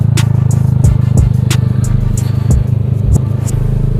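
A Honda Vario 125 scooter fitted with a Nob1 Neo 3 aftermarket exhaust and a quick-throttle grip revs close by, giving a steady engine drone broken by several sharp throttle blips with popping, clattering transients.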